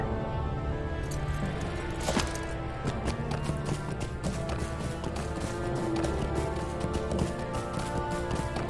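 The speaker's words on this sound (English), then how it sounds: "let's go ahead and get on our horse" Hooves gallop steadily on a horse in the online game Lord of the Rings Online, a continuous rhythmic clip-clop with no speech over it.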